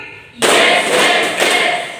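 A class of high-school students claps together on cue at a Catholic religion lesson, a sharp burst of hand claps starting abruptly, loud and close, with a second swell of clapping after a brief dip.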